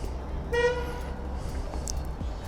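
A Royal Enfield Himalayan 450 motorcycle horn gives one short, loud, nasal toot, heard up close over a low idle rumble with faint background noise.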